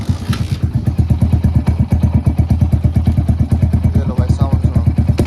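A Yamaha RX100-style motorcycle fitted with a silencer idles close by. Its exhaust makes a steady, rapid train of thumping pulses that stays loud throughout.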